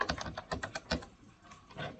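Keys on a computer keyboard clatter as MySQL stored-procedure code is typed, a short burst of quick close keystrokes that fades into a quieter pause before a few more taps.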